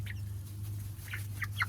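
Backyard chickens clucking in short, bright bursts scattered over a steady low hum, fairly close, with no one talking.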